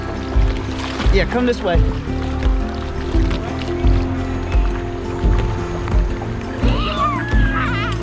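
A kayak paddled through river rapids with splashing water and paddle strokes running steadily under near, frequent talk and shouts from the paddlers.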